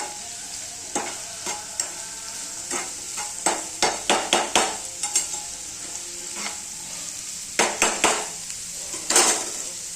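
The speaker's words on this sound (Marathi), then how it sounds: "आता हा कांदा चांगला ब्राऊन कलर येईपर्यंत" Onion frying on a raised flame is stirred until brown: a steady sizzle carries repeated sharp scraping and tapping strokes of a spatula against the pan, coming in quick bursts and clustered runs, close and fairly loud.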